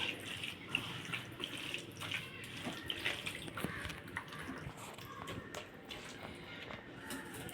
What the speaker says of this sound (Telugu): ఇప్పుడు చింతపండు పులుసు పోసుకుంటున్నాను